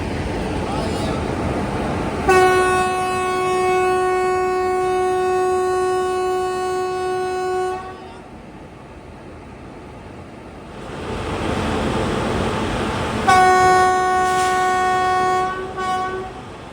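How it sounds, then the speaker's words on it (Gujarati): A Rajkot-Coimbatore Express train sounds its loud multi-tone horn in two long blasts, the first lasting several seconds and the second returning after a pause, over station rumble and background voices. "ફાઇનલી અત્યારે આપણી ટ્રેન કહેવાય છે કે નીકળવાના તૈયારીમાં છે"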